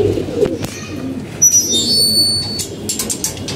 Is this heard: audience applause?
no